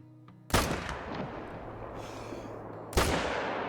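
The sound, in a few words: gunshot in the video game theHunter: Call of the Wild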